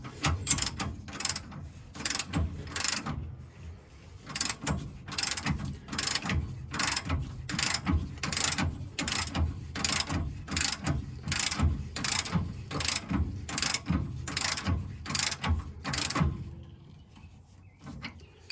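A ratchet tightens a nut on a car's rear axle during a lowered rear axle and leaf spring install on a 1936 Chevy coupe, giving long runs of rapid, evenly spaced clicks up close. The clicks pause briefly between strokes and stop near the end.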